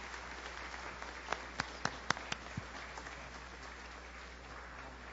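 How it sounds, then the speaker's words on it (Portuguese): A church congregation applauds its pastors during a Sunday service at an Independent Presbyterian church in Marília, São Paulo: faint, distant clapping with a few sharper, isolated claps rising over a steady background hiss. "Vamos aplaudir nossos pastores"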